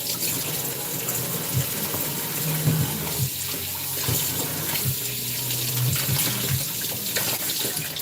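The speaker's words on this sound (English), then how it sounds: "I'm just rinsing the fish here." Tap water runs and splashes over small fish being rinsed in a sink. The stream is steady and close, with shifting gurgles and handling noises as the fish move under it.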